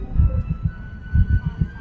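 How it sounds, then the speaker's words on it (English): A double heartbeat thumps in low, paired pulses, repeating a few times in a steady rhythm close up with a faint hum underneath. "A double heartbeat."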